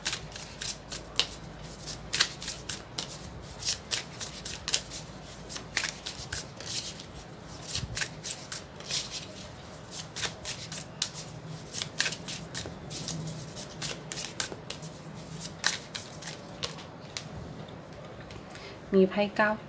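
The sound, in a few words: shuffling tarot cards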